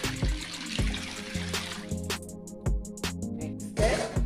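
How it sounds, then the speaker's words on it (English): Water pours into a pot of peas for a Jamaican stew peas dish, with several splashy bursts and short gaps in a steady, close-up rhythm, with no talking. "Pour enough water."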